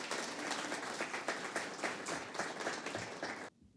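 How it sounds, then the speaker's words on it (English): An audience applauds warmly for young people, a steady wash of many hands clapping at moderate distance that stops abruptly at the end. "We should give the young people a round of applause,"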